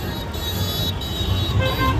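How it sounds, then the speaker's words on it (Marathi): Car horns toot briefly over the rumble of heavy road traffic on a rainy Mumbai main road during the Ganesh immersion procession, with sustained honking tones close by. "ट्रॅफिक पण तुम्ही बघू शकता बराच ट्रॅफिक आहे"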